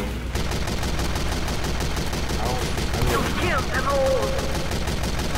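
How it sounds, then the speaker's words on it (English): Rapid gunfire in a video game: a dense, continuous stream of shots, loud and close, with chirpy effect sounds and a voice briefly audible partway through. "Look how many shots I can do before landing on the ground"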